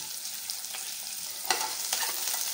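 Curry leaves, mustard seeds, cumin and green chilli fry in hot oil with a steady hiss and sizzle, broken by a couple of sharper crackles and pops.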